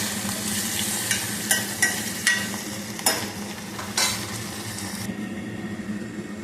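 Chopped onion pieces sizzle steadily in a hot pan for a Telugu horse gram soup (ulavacharu), with a spoon scraping through them in a few distinct strokes before the frying settles into a quieter hiss.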